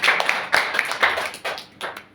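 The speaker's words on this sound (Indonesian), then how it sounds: "Kasih tepuk tangan untuk mereka" A church congregation claps hands during a morning sermon, producing a few loose, uneven bursts of clapping that swell and fade over a couple of seconds, fairly close and without talk.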